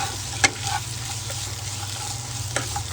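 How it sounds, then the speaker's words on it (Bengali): Nuts and five green chillies fry in a pan for chicken Afghani, giving a steady close sizzle broken by a couple of sharp spatula clicks. "এখানে দিয়ে দেবো কাঁচা লঙ্কা 5টা, আর আমি বাদামগুলো খোলা ছাড়িয়ে নিয়েছি, বাদামগুলো দিয়ে দেবো। এটা একটু ভালো করে ভেজে নেব।"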